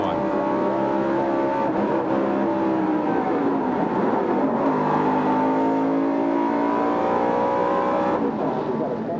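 NASCAR race cars at the 1996 Coca-Cola 600 roar down into turn one, a loud, continuous multi-engine drone with shifting pitches as the pack sweeps through the corner.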